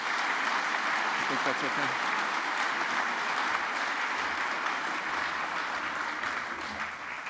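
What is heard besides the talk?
audience applause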